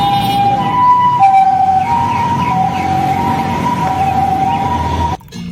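A toy ambulance siren wails steadily and fairly loudly, with a rising and falling electronic tone that cuts off abruptly near the end.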